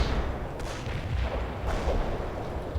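Artillery fire in the video game World in Conflict, a continuous rumbling barrage of distant booms and blasts layered over one another, with a couple of sharper impacts standing out from the low roar.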